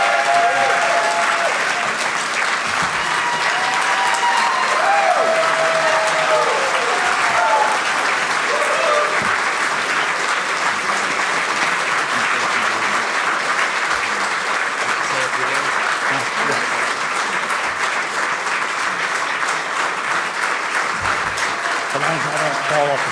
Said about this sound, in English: let's have a round of applause for Jeff for what he's done for us